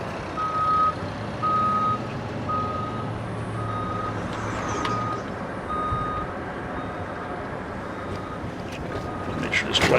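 Truck reversing alarm beeping in a steady, evenly spaced series on a street near a fire station in The Villages, Florida, moderately distant under a rumbling engine and road noise.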